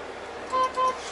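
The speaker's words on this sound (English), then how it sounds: "We'll give it a little honk." Two short truck horn honks in quick succession, moderately distant, over a low background hum of traffic.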